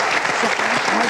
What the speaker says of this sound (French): Bonsoir Brigitte Bardot, on peut l'applaudir.